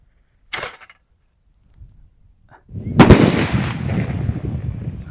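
A Diwali firecracker bomb flung from a large homemade slingshot: a sharp snap early, then a loud blast that rolls into a long rumbling, crackling tail, with no talk.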